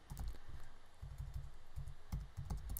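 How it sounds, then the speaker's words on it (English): Fingers type on a computer keyboard in quick, irregular bursts of soft clicks, faint and close, with brief pauses between runs of keystrokes. "I'm actually just going to type it out here"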